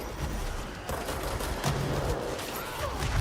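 Sniper gunfire in the video game Control rattles off in a dense, continuous volley of shots, loud and close, with no talk over it.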